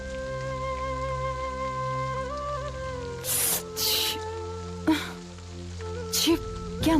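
Heavy evening rain falls as a soft, steady wash under a sustained musical score. Several brief, sharp splashes or bursts stand out over it.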